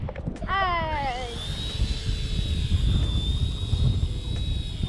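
A cheap RC Era C138 toy helicopter flies with a steady high-pitched motor and rotor whine that holds throughout, over wind noise and handling sounds; a voice speaks briefly near the start.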